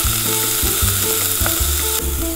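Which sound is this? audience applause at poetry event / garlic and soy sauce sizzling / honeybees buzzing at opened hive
garlic and soy sauce sizzling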